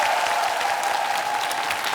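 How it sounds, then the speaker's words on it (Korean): A television singing competition audience applauds the first team after their performance, a steady, dense wash of clapping from a large studio crowd, loud and continuous. "첫 번째 팀에게 큰 박수 부탁드립니다"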